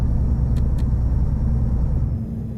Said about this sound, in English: I like the sound of the retarder also, which is part of the mod.